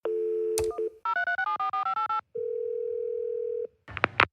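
A landline phone gives a steady dial tone, then a run of keypad touch-tones punched in quick succession, another long tone, and a brief burst of line noise, all close and clear with no talking.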